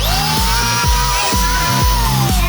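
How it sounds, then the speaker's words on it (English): A large corded DeWalt drill spins a wire brush against a Chevy 350 engine in loud, repeated bursts, its motor whining steadily while the scrubbing rasps in rhythmic strokes. "go to some ancient technology of a corded drill with this big old DeWalt one with a different brush"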